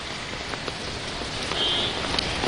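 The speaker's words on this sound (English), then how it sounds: "we have started receiving monsoon rain" Monsoon rain falls steadily in Hyderabad, a dense, even hiss of drops on surfaces that runs continuously and fairly loud, with scattered sharper patters.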